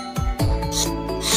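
A steel knife blade made from a reused stone-saw blade rasps through a sheet of paper in a few quick, close slicing strokes, with no talking.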